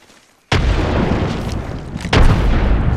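Frag grenade detonating in Apex Legends: after a short quiet lead-in, a loud, sudden blast booms and rumbles, followed by a second heavy explosion a moment later, both deep and close.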